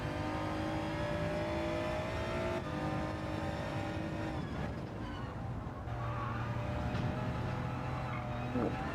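Hyundai Elantra race car in Gran Turismo 7, its engine droning steadily and loudly at high revs with shifting pitch as it races close by, a brief tire squeal mixed into the continuous motor noise.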